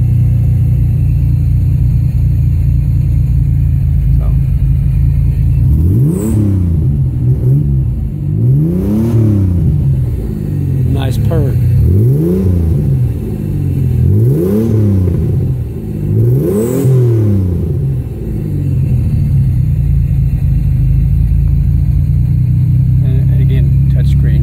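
A custom car's engine runs at a steady warm-up idle, broken midway by a series of about five quick rev blips that rise and fall before it settles back to idle; loud and close.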